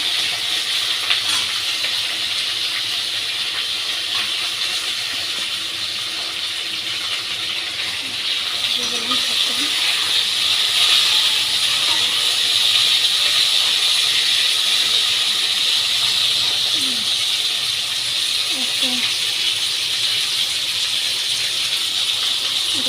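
Potatoes and cauliflower frying in hot oil in a home kitchen, giving a steady, loud broadband sizzle and hiss that runs unbroken throughout, with occasional faint clinks underneath and no talking.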